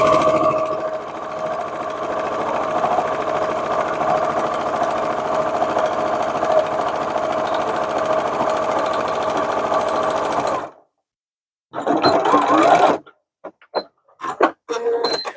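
A sewing machine stitches book and Kindle sleeves in a steady, close whirring run for about ten seconds, then stops before several short stop-start bursts of stitching.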